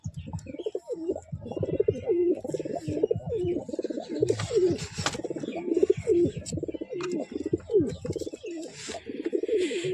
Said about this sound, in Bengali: এই রইল এই খাঁচার পায়রা।